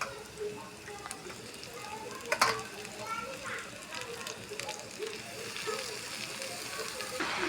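Spinach goes into a pan of onions and green chillies fried until pink, and it sizzles and crackles steadily at close range, with occasional stirring clatter.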